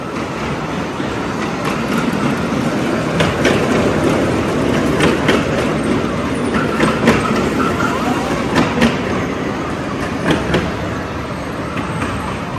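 Riding aboard a train carrying children, the wheels clatter steadily on the rails in a loud, continuous rumble punctuated by rhythmic clicks.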